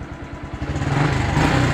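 A fuel-injected Honda Blade motorcycle engine idling close by, a steady low rumbling putter that continues evenly throughout the short stretch.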